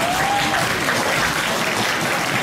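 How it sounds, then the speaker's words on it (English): A room full of guests at a charity gala dinner applauds, dense continuous clapping throughout, loud and steady with a faint murmur of crowd beneath. "Please give your applause to give him the encouragement."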